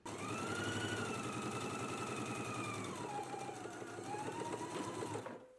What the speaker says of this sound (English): I'm going to be stitching with my fabric facing up.